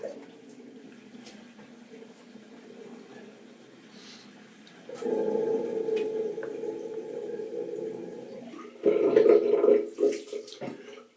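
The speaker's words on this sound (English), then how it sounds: "I'm just going to drain my water. Please excuse the noise." Water draining from a bath or basin at home, a steady low rushing gurgle that grows louder midway and surges toward the end with sloshing bursts.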